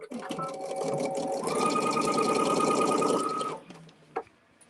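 A sewing machine stitches a quilt block in one steady, fast run of about three seconds, then stops with a small click; a voice is heard nearby.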